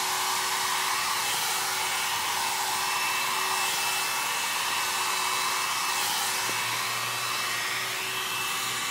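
A Lange Le Volume heated brush hair dryer runs steadily and loudly throughout, a constant close airflow whoosh with a faint motor whine, no talking.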